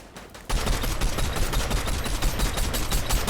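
Rapid automatic gunfire in Fortnite, played in a Unreal-ranked duo match, bursts in after a brief lull and rattles on loud and close without a break.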